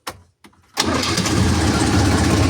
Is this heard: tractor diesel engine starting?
yes